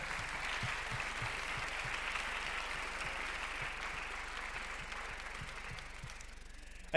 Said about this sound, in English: one more round of applause for Miss Linda.